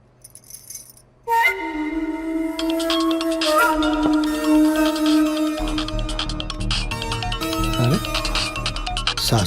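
A melodic ringtone plays loudly and continuously after a brief quiet start, with a repeating electronic tune and a low beat joining partway through.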